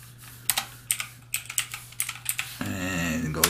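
Fingers typing on a computer keyboard nearby, a quick, uneven run of soft clicking keystrokes that turns into a denser patter near the end, with no talk over it.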